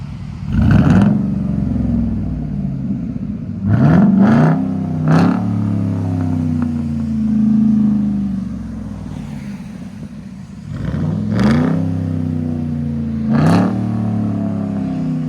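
A 2010 Chevy Express 3500 work van with a 6.0L V8 and true dual straight-pipe exhaust revs loudly several times from a deep idle rumble, with sharp bursts near the start, middle and end, on a cold, rainy day.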